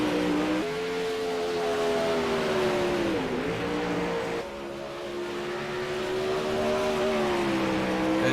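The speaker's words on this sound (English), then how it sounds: "sounds like cars are shutting it down now" Drag race cars on a drag strip ease off after their runs, a loud, sustained engine drone whose pitch dips and falls as they wind down, with no voices.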